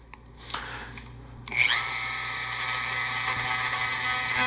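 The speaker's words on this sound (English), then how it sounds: "Dremel tool." Dremel rotary tool sanding varnished wooden airplane tail ribs, a close high-pitched whir that spins up after a few clicks and holds steady.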